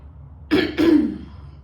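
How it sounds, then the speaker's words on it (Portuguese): Someone clears their throat twice in quick succession, close to the microphone and fairly loud. "Me desculpem o meu pigarro hoje."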